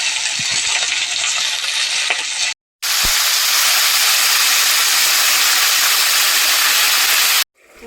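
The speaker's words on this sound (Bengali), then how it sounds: "তো মাছের মাথাটা আমি আগে ভালো করে ভেজে নিচ্ছি।" A fish head frying in hot oil in a pan for a vegetable chorchori, giving a loud, steady hiss and sizzle close up that breaks off briefly twice, with an occasional faint tap.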